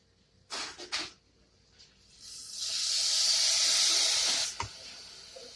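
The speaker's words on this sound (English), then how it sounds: "I add the guajillo sauce. I'll be whisking at the same time." Guajillo chile sauce poured into a hot pan for tamales gives a loud, steady sizzling hiss lasting a few seconds, preceded by brief clatters and scrapes of whisking.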